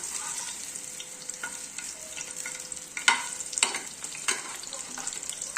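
Plantain pieces sizzle steadily in hot oil in a frying pan, with sharp clicks and scrapes partway through as the pieces are flipped over, close and fairly loud.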